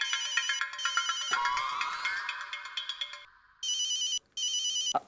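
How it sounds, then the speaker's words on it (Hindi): A telephone rings repeatedly with loud, bright electronic ringtone bursts, and a brief rising tone partway through. The rings carry on alone with no talk. "हुकुम, आपके लिए फोन है मुंबई से,"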